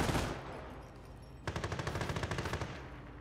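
A half-track's machine gun in Company of Heroes opens up after a brief noisy lull, firing a rapid, steady burst of evenly spaced shots that runs to the end, sharp and fairly close with no voices.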